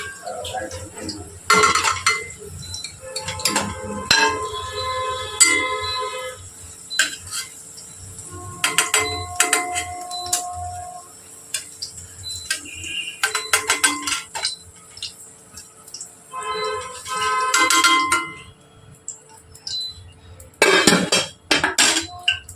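Fried potatoes are lifted one by one from hot oil in a pan with metal utensils, giving scattered clinks and scrapes against the cookware, with someone talking in between.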